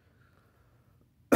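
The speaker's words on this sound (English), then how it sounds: "I have been coughing a lot." A single short cough bursts out loud and close at the end, after near silence with faint low background hum.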